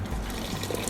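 Hot water pours into a pot for tempering chocolate, a steady close splashing and trickling of liquid with no break.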